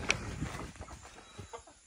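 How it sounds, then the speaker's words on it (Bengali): Chickens cluck faintly in short, scattered calls on a goat farm, a few soft clucks spread across a quiet farmyard background. "ফার্মের জন্য আমরা কিছু মুরগি নিয়ে এসেছি"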